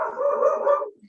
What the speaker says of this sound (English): my dogs are going bananas